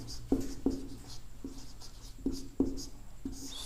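A pen writing a maths answer by hand on paper: about six short, distinct scratchy strokes spaced irregularly, quiet and close, with no talking.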